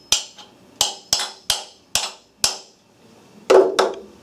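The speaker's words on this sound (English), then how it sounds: "Take a hammer and just snug it up." A hammer snugs a replacement cam pocket assembly into place with a series of sharp metallic taps, about six spaced strikes followed by a quick double hit, close and clear with no talk.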